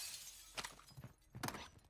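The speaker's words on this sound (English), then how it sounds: "I'm gonna break this glass here." Glass smashed in a video game: two sharp shattering crashes about a second apart, each with a brief tinkling tail, fairly quiet against a hushed background.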